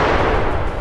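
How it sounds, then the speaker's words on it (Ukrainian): Gunfire or artillery fire aimed at trenches in Bakhmut, a dense, continuous roar of blasts filling the short span at close range and high loudness, with no voices over it. "А це по нам стріляє."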